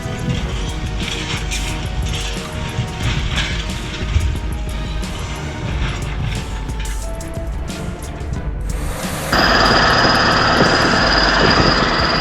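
A Caterpillar T-130 bulldozer engine runs loud and steady while pushing logs, a rough continuous roar that shifts into a brighter, harsher hiss near the end.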